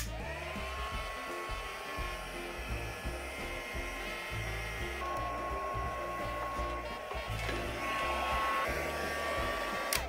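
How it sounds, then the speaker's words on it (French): A heat gun blowing continuously at close range to melt embossing powder on a candle holder, producing a steady whining airflow with a high tonal hum and some background clatter. "on vient chauffer à l'aide d'un pistolet chauffant"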